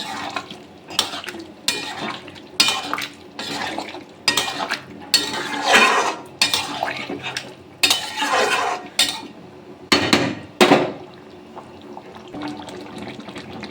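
A kohlrabi curry with kasuri methi and garam masala is stirred in a pan, a steady run of rhythmic spoon scrapes and clatters against metal with a soft simmering bubble underneath, close and clear, without speech.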